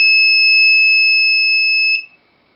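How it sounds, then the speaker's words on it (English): A piezo buzzer in a simple four-component laser alarm circuit sounds a loud, steady electronic tone for about two seconds, then cuts off abruptly into silence. "I expect to hear the buzzer start buzzing and the laser to turn on"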